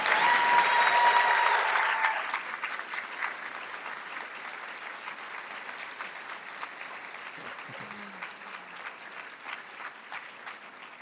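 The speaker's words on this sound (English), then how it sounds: "Give her one more round of applause." An audience at a community college honor society induction and awards ceremony applauds, loud and dense at first, then thinning to scattered clapping that fades over several seconds.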